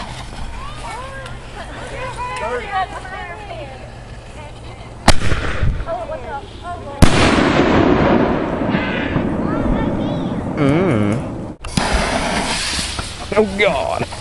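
A 1.75 inch salute firework goes off at an outdoor July 4th show with a sharp loud bang, followed by crackling bursts and further reports, while people nearby talk and shout over the blasts.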